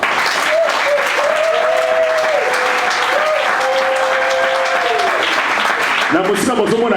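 An audience claps at a church gathering honouring married couples. The applause is sustained and fairly loud, with a sung or held melodic voice running over it and a few spoken words near the end.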